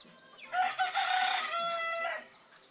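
A talisayin bantam gamefowl rooster crows once, a clear, moderately close cock-a-doodle-doo of about a second and a half, with no voices over it.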